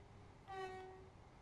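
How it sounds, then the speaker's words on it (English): A Class 375 electric train sounds its horn in Train Sim World 3 on the Rochester to Faversham line. It gives a single clear two-tone blast of about half a second, fairly faint over a steady low running rumble. "Get a bit of the whistle in"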